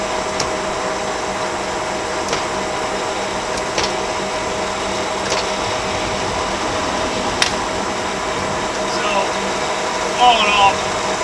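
A Warner & Swasey 2A turret lathe hums and whirs steadily at close range, with occasional faint clicks and a few brief higher whines near the end.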